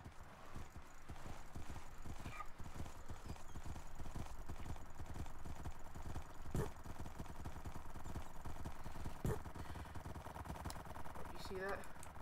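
Many horses spawned in a video game, a dense crowd of clip-clopping hooves with occasional neighs and whinnies, steady and continuous throughout.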